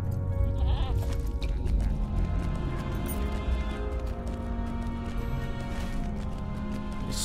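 A goat mount in the online game The Lord of the Rings Online bleats repeatedly over a dense, steady game soundscape with music, loud and continuous throughout.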